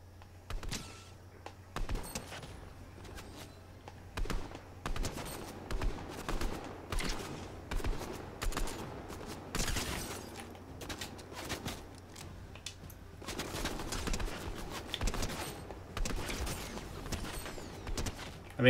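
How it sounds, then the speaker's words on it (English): Rapid gunfire from a weapon in the video game Fortnite, sharp crackling shots in irregular bursts and single pops over a low hum, fairly quiet and close. "I might still be able to get a few headshots off on her."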